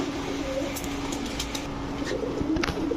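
Mynah flock pigeons cooing softly at a seller's loft, low murmuring coos under a steady background hum with a few faint wing and shuffling sounds, no talk.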